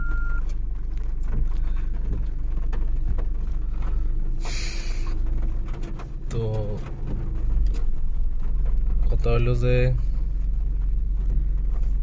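A car brought out and driven in the rain, a steady low engine drone running throughout beneath someone talking, with a couple of brief higher tones.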